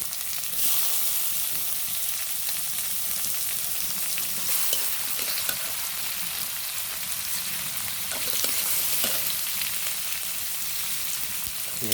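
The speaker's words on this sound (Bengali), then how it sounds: "ফিরে ভালো করে নাড়াচাড়া করতে হবে পেঁয়াজগুলি কষাতে হবে সুন্দর করে" Chopped onions frying with black cumin and green chillies in hot oil give a loud, steady sizzle throughout, close up, with occasional faint stirring scrapes and no talking.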